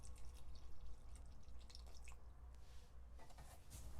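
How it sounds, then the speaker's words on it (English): Water from a cup soaks into the soil at the roots of newly planted greenhouse tomato plants. The sound is faint and close, a steady patter of drips and gurgles lasting a few seconds. "if we start pouring, you'll see the water goes right on down through"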